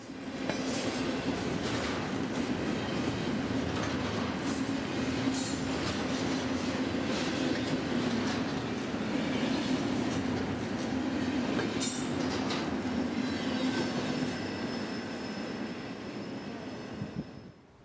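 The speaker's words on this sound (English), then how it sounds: "the LA-bound intermodal train heads south into Kawa" A southbound intermodal freight train bound for Los Angeles rolls past steadily and continuously, a close, sustained rumble of railcars and wheels with occasional squealing and clicking over rail joints.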